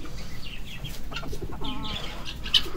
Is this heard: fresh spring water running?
no